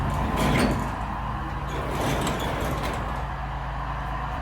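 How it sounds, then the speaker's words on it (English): A car door opens with a rumbling scrape over a steady low hum, near and fairly loud, without any voices. "And open the door."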